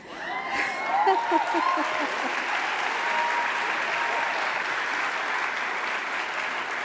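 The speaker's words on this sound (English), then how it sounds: "I think we do need to have some applause now for this group." A crowd claps steadily and loudly throughout at a university State of the University address, with a few brief voices and cheers near the start.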